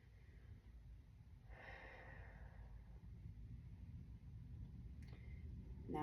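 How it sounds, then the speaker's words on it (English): One slow, deep breath taken during a hatha yoga pose, a soft, airy inhale rising and falling over about a second, faint and close over low background rumble, followed by a brief sniff near the end. "Take a deep breath"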